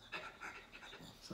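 A dog pants quickly up close, short rhythmic huffing breaths repeating several times, fairly quiet.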